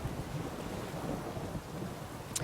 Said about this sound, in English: that guy did just acknowledge the rain